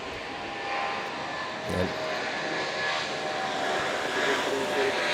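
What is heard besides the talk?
airplane engine at Manila airport (NAIA)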